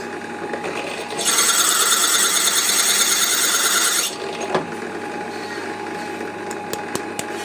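A loud, steady buzzing whir of a power drill running for about three seconds, then stopping, leaving quiet background noise and a few faint clicks.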